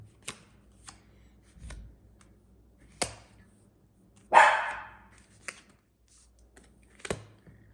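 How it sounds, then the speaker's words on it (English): Several short, sharp barks from dogs in a house, scattered across the stretch with quiet gaps between them and one louder, fuller bark near the middle. "Sorry about my dogs."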